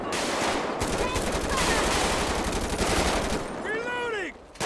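Dense, loud gunfire crackles through a GTA 5 police patrol shootout in a rural county, shots overlapping into a near-continuous barrage that drops out briefly at the end.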